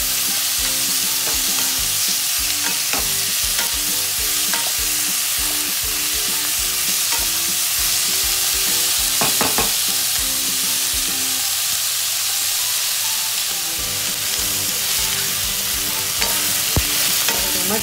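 Tomatoes and mixed vegetables are sautéed in a pan for mix veg Kolhapuri. A constant loud sizzle runs under repeated scraping and stirring clatters from a utensil, with no talking.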